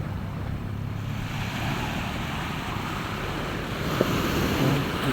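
Ocean surf rolls in a steady wash on the coast of Bislig, Surigao del Sur, Philippines, loud and close, with wind buffeting the microphone and a faint low engine hum in the background.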